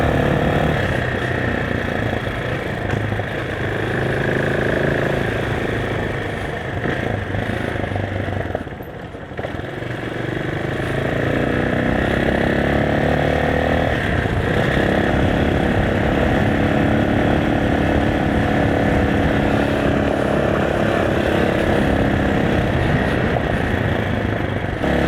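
A Motofino XRE250 motorcycle rides along a winding road toward Tagaytay, its engine droning steadily with a brief dip in the middle and then a rising, varying pitch as it pulls away.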